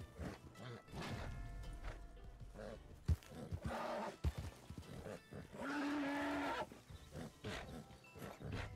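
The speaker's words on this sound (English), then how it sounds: "A very upset horse." An agitated horse in Red Dead Redemption 2 roleplay snorts and lets out a long, strained whinny midway, mixed with thumps, a sharp crack and scuffling, while a voice speaks briefly.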